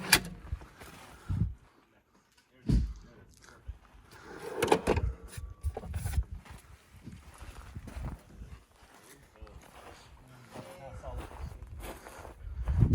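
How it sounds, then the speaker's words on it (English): Pull-out kitchen drawers in a DIY camp kitchen on a Rivian R1T pickup slide open and shut, giving several clunks and sliding rattles spread through the clip, close by, with a person talking between them. "Drawers pull all the way out, and you can still, I don't know if I can get it in there, kind of close everything"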